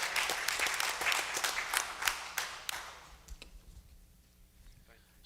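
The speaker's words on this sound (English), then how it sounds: "everybody give him one more big round of applause for Mr. Wyatt McCullough" Audience applause at a student championship showcase: dense clapping for about three seconds that thins out and fades to near quiet, with faint voices underneath.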